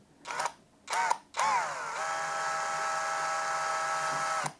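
A Saker 20V brushless drill drives a construction screw at an awkward angle: two short whirring bursts, then one longer, steady close-up run that cuts off at the end.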